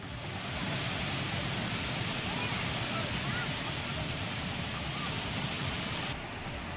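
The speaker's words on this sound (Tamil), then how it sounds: "திருப்பரப்பு அருவியில் வெள்ளப்பெருக்கு ஏற்பட்டதால்" The flooded Thirparappu waterfall roars with a dense, continuous rush of heavy water, loud and unbroken throughout.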